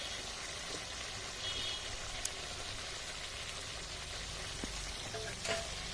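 Spices, tomato and potato sauté together in a pan for a meat dish, a soft, continuous sizzle with occasional faint clicks of stirring, quiet and close.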